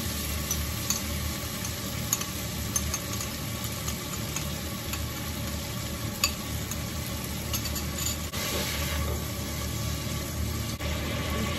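Sour yogurt going into a sizzling mustard hilsa curry with eggplant, a steady loud frying hiss with scraping stir strokes running throughout.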